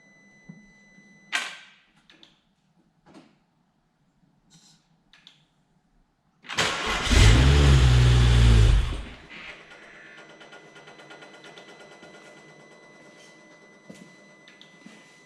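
BMW 335i engine being started, a few faint clicks and ticks, then a loud sudden crank-and-catch burst lasting a couple of seconds before settling into a quiet, steady idle hum.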